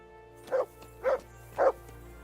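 A dog in the video game Kingdom Come: Deliverance gives three short, evenly spaced barks, close and clear against a quiet background hum.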